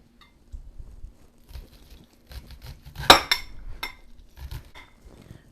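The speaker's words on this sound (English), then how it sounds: "for the corn, we are just going to cut it off the cob" A knife taps and scrapes against a board cutting corn off the cob in scattered strokes, with one sharper clink midway; quiet, close-up kitchen sounds with no voices.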